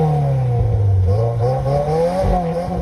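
A Subaru four-cylinder turbo engine with equal length headers revving loud and close, its smooth tone rising and falling through several blips without the usual boxer rumble.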